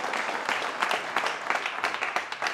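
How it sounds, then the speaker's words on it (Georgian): Applause seeing off two fighters at a GAMA Fury combat-sports press conference: a steady, dense wash of clapping from a crowd indoors, continuous and fairly close for the whole stretch, with faint voices mixed beneath. "აპლოდისმენტებით გავაცილოთ მებრძოლები."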